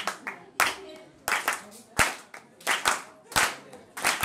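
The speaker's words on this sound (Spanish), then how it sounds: "Yo haría una pequeña intro de cómo serían las palmas." Hands clap a rhythmic, syncopated pattern for a song intro, sharp close claps in repeating groups, with a voice murmuring faintly underneath.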